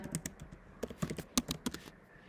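Rapid, irregular clicking of keys on a computer keyboard as text is typed, close and fairly quiet, with uneven bursts and short pauses and no voices.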